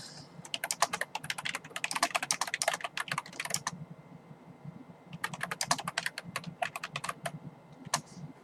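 Rapid keystrokes clatter on a computer keyboard while playing Tibia, with a dense burst of typing, a short pause, then a second flurry ending in a few isolated taps.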